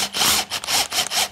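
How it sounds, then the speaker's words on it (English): A cordless drill spinning a tire plug reamer into a flat tire, four rhythmic grinding, rasping bursts in quick succession, close and loud, with no talk. "So instead of using a ream with a handle, we'll use it in a drill."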